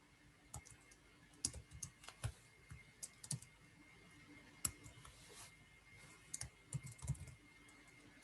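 Scattered keystrokes on a computer keyboard while coding in VS Code come as quiet, irregular clicks in small clusters with pauses between, close but faint.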